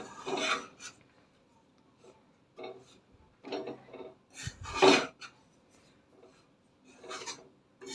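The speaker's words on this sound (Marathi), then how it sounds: "नाचणीचं पीठ भाजताना आपण शक्यतो बोडाची कढई घ्यायची आहे म्हणजे पीठ खाली लागत नाही करपत नाही" Ragi flour being roasted in a kadhai over low heat, with a spoon scraping and rasping against the pan in irregular bursts of stirring and short pauses between strokes.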